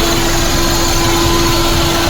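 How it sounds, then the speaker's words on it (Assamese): A used Maruti Suzuki Alto K10 hatchback in good condition sits idling: a loud, close, steady engine hum with an even drone and no extra noises or talking. "ধুনীয়া কণ্ডিশ্যনত আছে গাড়ী ইঞ্জিনটো, চাউণ্ডটো একদম ধুনীয়া হৈ আছে"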